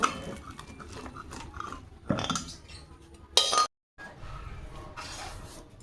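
A lid and pot clink and clatter while water is strained off boiled figs, potatoes and eggplant, a few sharp metallic knocks between quieter rattling and a brief silent gap.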